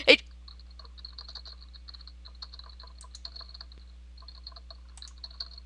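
Rapid clicking keystrokes on a computer keyboard come in uneven bursts with short pauses, quiet and close over a low electrical hum.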